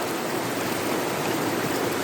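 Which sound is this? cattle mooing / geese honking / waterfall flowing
waterfall flowing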